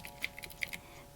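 Keys on a handmade keyboard with gold UV resin keycaps are typed quickly, several crisp clicks spaced irregularly, faint and close with no voices.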